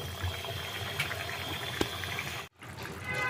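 Water pours steadily into a cooking pot with a continuous close rushing splash, a couple of small clinks, then the flow stops abruptly before a quieter hiss resumes.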